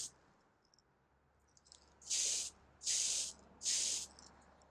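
Airbrush spraying paint onto a Gunpla model part in three short, even hissing bursts, close and clear against a quiet background.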